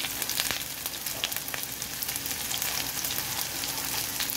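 Green chillies and ginger sizzle and crackle steadily in hot oil in a pan for godhuma rava upma, a close, even frying hiss with small pops and no talking.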